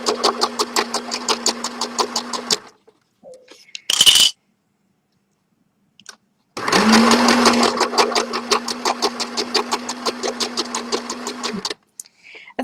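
A sewing machine stitches square pieces of tie dye fabric into a shopping bag, running in two bursts of steady, rapid needle clatter with a hum beneath, split by a short pause and a brief sharp rattle.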